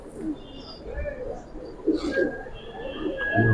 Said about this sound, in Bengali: অনেক ভালো কবুতর